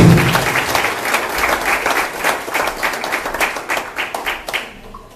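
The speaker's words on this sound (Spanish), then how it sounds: "Un fuerte aplauso para él." An audience applauds after a talk on OAS corruption, many hands clapping in a loud, sustained round whose individual claps stand out before it thins and fades away near the end.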